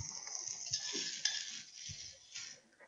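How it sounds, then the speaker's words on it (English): Vegetables sauté in a pan with a soft, steady sizzling hiss, broken by faint stirring clinks and scrapes, all fairly quiet and close. "while we saute these vegetables"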